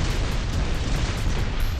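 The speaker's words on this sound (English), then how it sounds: "cannon, boom, boom, boom" Heavy cannon shots boom from a mech in the War Robots video game, a dense run of loud, close blasts that rumble back to back with no speech over them.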